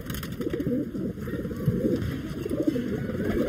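High-flying Sarang puri pigeons coo close by, with soft repeated throaty coos overlapping in an irregular rhythm against faint background noise.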